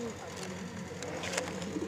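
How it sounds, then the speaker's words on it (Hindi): Soft, low cooing from a pigeon at a pigeon-racing tournament, murmuring steadily at close range under people talking. "ये टेडी कबूतर है जी"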